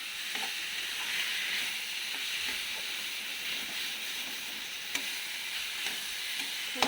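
Vegetables, including some chickpeas, frying in a pan over a high gas flame, a constant fairly quiet hissing sizzle with soft crackles and a few light clinks from stirring.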